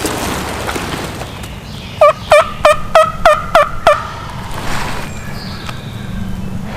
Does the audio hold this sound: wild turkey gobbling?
yes